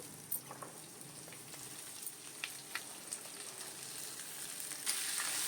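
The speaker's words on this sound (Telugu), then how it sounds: "ఇదిగోండి దొండకాయలు ఉన్నాయి కదండి, ఇవి వేస్తున్నాను." Ivy gourds drop into hot oil with curry leaves and dals, crackling and sizzling steadily up close with scattered sharp pops, rising to a louder hiss near the end.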